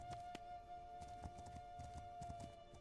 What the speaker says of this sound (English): I'm at a full sprint right now. I'm in a full gallop, but my horse can't reach that.